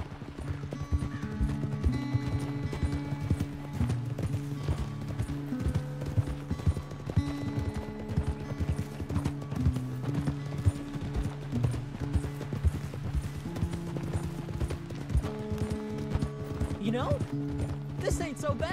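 Horse hooves clip-clop in a steady, rapid rhythm throughout a Red Dead Redemption 2 ride, with occasional snorts and a whinny. Characters talk over the hoofbeats.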